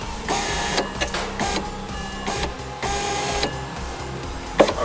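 A BMW E90 3 Series rear power window regulator motor whirs in repeated short runs of varying length, stopping and starting, fairly close with a small clunk near the end.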